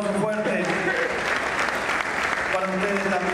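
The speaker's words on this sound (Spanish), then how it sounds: "Un aplauso fuerte" Audience applause at a sports press event in San Juan, a steady dense wash of clapping that fills the short stretch, with voices carrying through beneath it.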